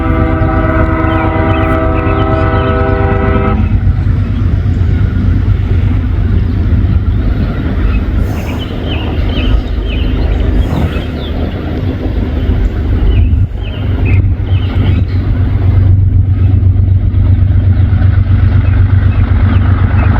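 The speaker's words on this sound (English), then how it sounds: "Locomotive back there spewing out black smoke, man." A CSX locomotive passes very close and loud, its horn sounding at the start. A heavy rumble and clattering rail noise follow and continue steadily to the end.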